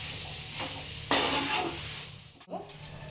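Moong dal kochuri filling fries in a pan over a low flame: a soft, steady sizzle with spoon-stirring scrapes, a louder burst of sizzling partway through, and a brief clatter near the end, close and fairly quiet.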